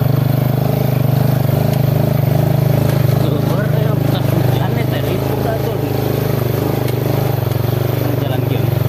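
Motorcycle engine droning steadily while riding along a village road, loud and close with a constant low rumble throughout, and people talking over it.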